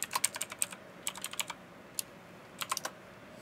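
Quick taps on a computer keyboard while a password is entered, irregular clusters of crisp, close keystrokes with short pauses between bursts and no talking.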